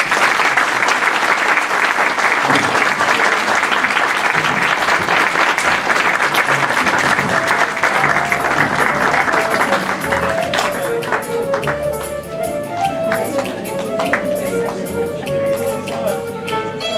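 Loud, continuous applause from a seminar audience rolls on for over ten seconds, then thins out as scattered claps and murmuring voices take over toward the end.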